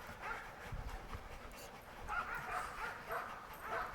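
Sled dogs in Alaska whimper, yip and bark in a restless chorus, fairly quiet and somewhat distant, with the yelps rising and falling over a steady outdoor background.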